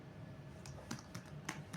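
Several light keystrokes on a computer keyboard while code is being typed, soft and close, with irregular taps spread over a quiet hum.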